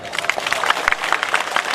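Crowd at a Thakor community mass gathering clapping in a dense, steady patter with scattered sharper claps, fairly loud and continuous across the moment, with faint voices mixed in.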